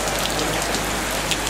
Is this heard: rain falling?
yes